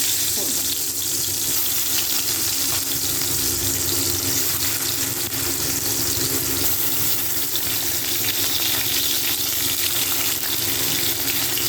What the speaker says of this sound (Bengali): এবার আমি মাছটা ভালো করে একে একে ভেজে নেব